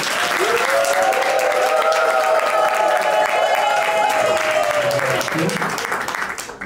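Wedding guests in Pointe-Noire, Congo, applaud loudly and steadily for several seconds after the ring is shown, with voices cheering or ululating over the clapping before it fades.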